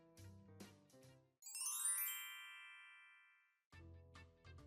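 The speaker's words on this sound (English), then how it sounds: "I have been trying to get your attention by ringing your doorbell." A doorbell chimes once, a bright ringing tone that sustains and slowly fades over about two seconds, set between bursts of other sound before and after.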